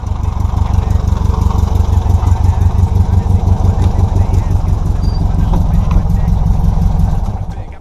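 Air-cooled Volkswagen Fusca (Beetle) engine running after starting, loud close steady idle with a fast even chugging pulse that fades near the end, a voice talking over it.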